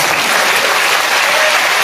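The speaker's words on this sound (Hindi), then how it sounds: "इस पर ताली कम क्यों हो गई?" An audience claps at a political party press conference in Neemuch. The applause is dense and steady, close and loud throughout the short stretch, with no talking over it.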